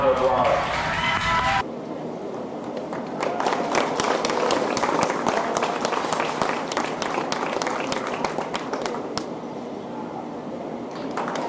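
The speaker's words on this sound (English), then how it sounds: "Let's give him another nice round of applause." Audience at the Champaign County Fair in Urbana, Ohio breaks into sustained applause and clapping after a dairy show, a steady roar of hands lasting most of the stretch after a brief opening burst of other sound.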